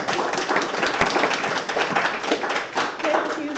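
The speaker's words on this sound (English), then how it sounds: "Let's give her a round of applause" A live audience at a Sunday service gathering clapping for a community center head, dense overlapping claps sustained for several seconds, close and steady.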